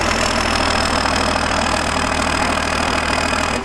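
Cummins truck diesel swapped into a Mustang idling steadily nearby, a constant low rumbling drone with a faint knock throughout.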